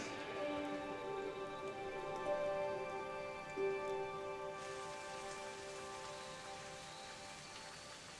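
Rain falls steadily over a garden with a Lebanese cedar, a constant soft hiss that grows brighter and denser partway through, beneath sustained tonal music.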